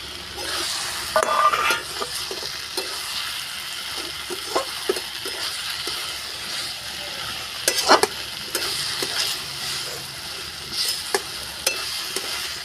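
Fried fish being stirred into a sizzling eggplant curry cooked village-style, with steady frying hiss and repeated scraping stir strokes of a spoon against the pot, close and without talk.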